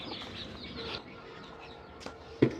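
Chickens on a home poultry setup cluck faintly in the background, with a couple of short louder squawks near the end and no talk.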